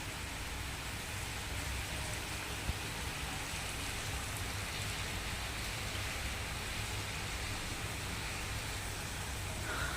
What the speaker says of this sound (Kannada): ಜೋರು ಬಂದಿರಲಿಲ್ಲ ಅಷ್ಟೇ ಮಳೆ, ಸುಮ್ಮನೆ ಲೈಟಾಗಿ ಬೀಳ್ತಾಯಿತ್ತು. ಇವಾಗ ಜೋರು ಬರ್ತಾ ಇದೆ